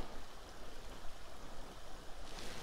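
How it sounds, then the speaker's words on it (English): A small waterfall beside a road on a muddy trail gives a continuous, steady rush of falling and splashing water, moderately close and unbroken, with no voices. "a little waterfall alongside the road here"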